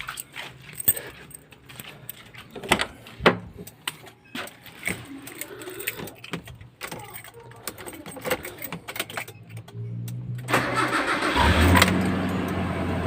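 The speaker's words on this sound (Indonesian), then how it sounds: "Kemudian kita coba nyalakan mesinnya ya." A car's keys jangle and rattle close by before the engine cranks and catches, then settles into a steady, louder idle that keeps running to the end.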